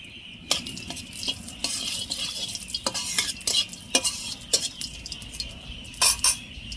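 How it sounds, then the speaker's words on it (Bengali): Cumin seeds go into a hot kadai and are stirred, with soft sizzling under scraping, clinking metal utensil strokes at an irregular rhythm. "এই যে কড়াইতে জিরে দিয়ে দিব।"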